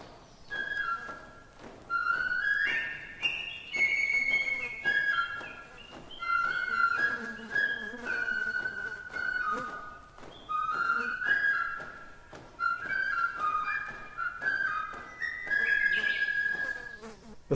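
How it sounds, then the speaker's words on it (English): Squeaky little whistle from the cartoon character Rhubarb, a thin high warbling tone that repeats in uneven phrases with short gaps, rising and wavering in pitch. "did just manage to peep a squeaky little whistle while he walked from the pond"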